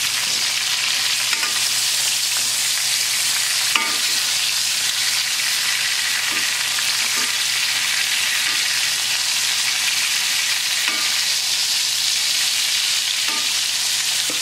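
Lamb chops sizzle steadily in a pan with butter and lemon, a loud, even crackling hiss that runs unbroken, with occasional soft knocks of a utensil against the pan.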